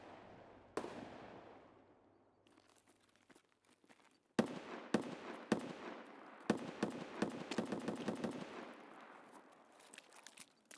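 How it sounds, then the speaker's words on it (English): Distant gunfire in Escape From Tarkov: a single sharp report, then after a lull a clustered string of rapid cracks and bursts, faint and far off, echoing in an otherwise quiet scene. "One of them is definitely shooting something"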